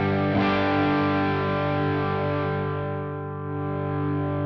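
Electric guitar played through a boost pedal placed before the distortion stage, giving one thick, saturated chord that rings out steadily for several seconds, loud and alone, with a fresh attack right at the end.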